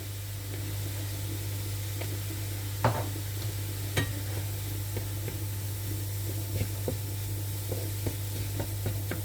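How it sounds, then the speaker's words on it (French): Small sweet mini peppers, seasoned with salt and pepper, grill in a pan with a steady, even sizzle, broken now and then by light clicks and taps from stirring. "on les laisse griller 2-3 minutes et c'est bon."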